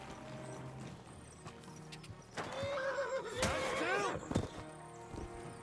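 A horse whinnies loudly in the video game Kingdom Come: Deliverance II, a long rising and falling neigh over hoofbeats and combat noise, with faint talk nearby.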